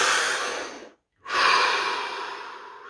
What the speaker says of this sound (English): Deep, deep breath.